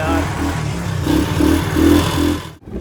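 A motorcycle engine idles steadily nearby, a low throbbing rumble with slight pulses, ending in a brief drop and a short final knock.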